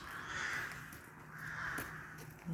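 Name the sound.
crows cawing on rooftops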